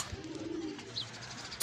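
Soft, low pigeon cooing murmurs faintly in the background, followed by a brief sharp click near the end.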